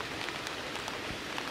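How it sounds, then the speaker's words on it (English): Light rain drizzles onto a tarp shelter high in Idaho's rugged mountains, a steady soft patter of scattered drops close by with no voices. "Well, I'm taking shelter under my tarp. Some rain's coming through."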